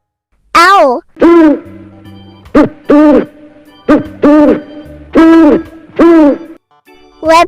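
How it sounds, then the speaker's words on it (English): Owl hooting in a wild-animal sound series, a run of loud, close, wavering hoots repeated in a steady rhythm with short gaps, about eight calls over several seconds, nothing else audible. "Owl."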